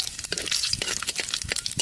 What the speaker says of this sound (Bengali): ফোড়নে দেবো শুকনো লঙ্কা আর কালো জিরে